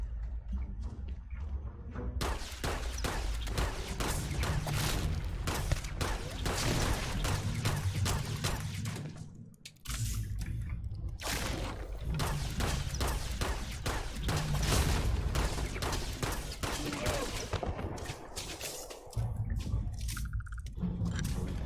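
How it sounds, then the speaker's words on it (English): Grenade blasts and gunfire from the game Starfield: a dense, continuous barrage of thuds and shots with no pause except two brief dips, loud and close throughout. "they're just lobbing the grenades literally all over the place"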